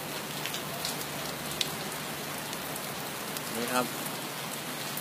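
Steady natural rain falls as a continuous hiss on surfaces, even and fairly loud throughout, with a man's short remark briefly heard near the end.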